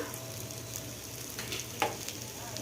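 Ground cumin and coriander are stirred into a frying pan of snack mixture, a soft continuous sizzle with faint scraping and one brief clink, quiet and without speech.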